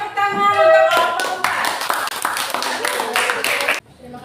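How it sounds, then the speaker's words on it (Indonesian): A high school class claps for a group of student representatives about to present, a burst of sharp hand claps following a brief spoken phrase and ending abruptly. "Beri tepuk tangan untuk kelompok"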